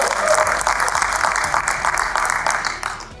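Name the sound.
audience applause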